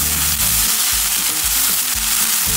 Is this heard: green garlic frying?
yes